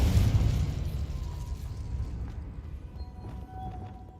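The Confringo explosion spell from Hogwarts Legacy detonates with a heavy, booming blast at the start, followed by a rumbling decay and scattered crackles and magical tones, no voices.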